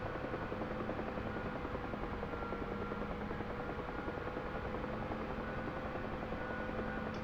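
A UH-1 Huey helicopter in a video game climbs at maximum power, making a steady, even rotor and turbine drone that holds at constant loudness with no talking.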